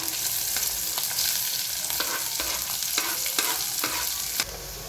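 Onion sizzles in hot oil with green chillies and curry leaves while a spoon stirs and scrapes the pan in repeated strokes, a steady close frying hiss throughout with no talking.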